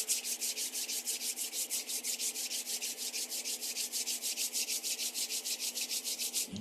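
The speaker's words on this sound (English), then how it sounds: "which I do by rubbing my hands till they get a little warm" Palms rub briskly back and forth to warm the hands, giving a close, even, rhythmic swishing of about six strokes per second that stops abruptly at the end, with no speech.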